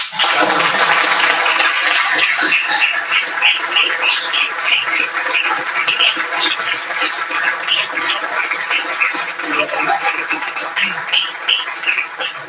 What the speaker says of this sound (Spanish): hoy les pido que el aplauso final, muy merecido, sea para Erika Mora